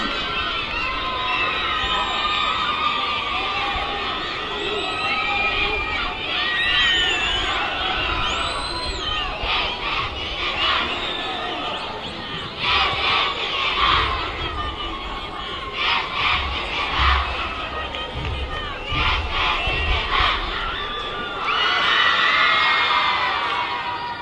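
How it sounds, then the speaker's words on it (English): Crowd at an India national rugby 15s match between Future Hope Harlequins and Kalinga Institute of Social Sciences cheers and shouts continuously, with swelling bursts and high whoops, loud and close, with a voice talking over it. "Look at that crowd."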